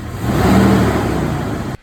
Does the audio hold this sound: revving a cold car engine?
yes